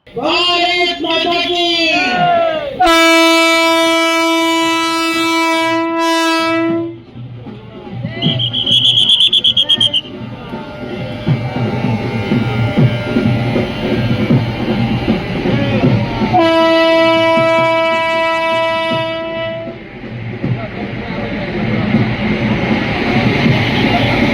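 A passenger train's horn sounds in long, loud blasts, stops, then blasts again, over the rumble and clatter of the departing Bhuj–Delhi train at Bhuj railway station, with an inauguration flag-off crowd around it.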